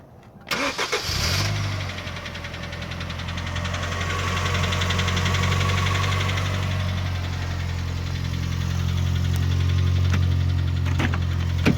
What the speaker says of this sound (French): j'ai entendu un bruit de moteur qui faisait clac clac clac clac clac clac clac clac clac clac